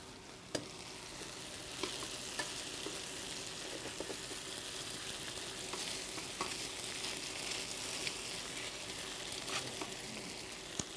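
Crab meat sizzles and fries steadily in a pan on a small electric induction burner at medium heat, with a continuous close crackle broken by occasional sharp pops and stirring scrapes.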